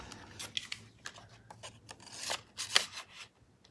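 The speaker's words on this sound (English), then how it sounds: "I need to cut them apart." Scissors snip apart punched paper pieces for a handmade card: a series of crisp, close cuts and paper rustles in an irregular rhythm, quiet, building to a few louder snips near the end.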